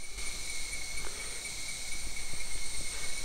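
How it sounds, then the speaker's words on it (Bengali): Insects calling in the jungle on Langkawi island, Malaysia, a continuous high-pitched buzzing drone in several steady tones over a quiet background, with a few faint rustles and thumps, no talking. "বাট চারদিকে শুধু পোকার আওয়াজ,"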